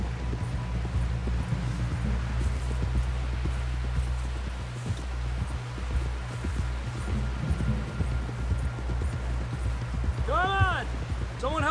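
Horse hooves clip-clop steadily in Red Dead Redemption II, a continuous rhythmic trot under a low rumbling ambient bed, with faint voices and a brief whistling chirp near the end.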